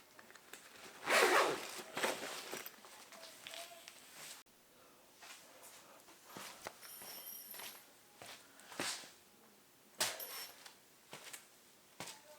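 Bag zipper being worked near a canoe with a thwart bag and life jacket nearby, a short rasping pull early on followed by scattered handling rustles, light knocks and clinks at close range.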